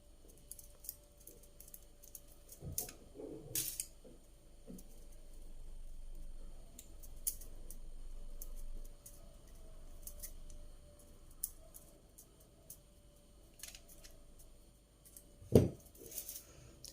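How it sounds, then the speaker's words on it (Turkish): Thin wire being twisted and snipped while making a bridal crown with barley-pearl beads, quiet close-up rustling and fiddling punctuated by a few crisp metallic clicks of cutters. "bunu kıvırarak kesiyorum telimi"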